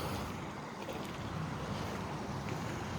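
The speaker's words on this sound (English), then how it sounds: "normally the water doesn't run this fast through it" Stony Creek rushes fast through a park, a steady broadband wash of running water heard close up, with no voices over it.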